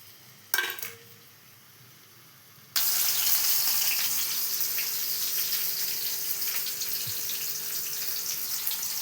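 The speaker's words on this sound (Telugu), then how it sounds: "అలాగే బీరకాయలు వేయించుకుందాము ఫస్ట్." Ridge gourd pieces dropped into hot oil, a brief clatter followed by a loud, steady hiss of frying that continues to the end.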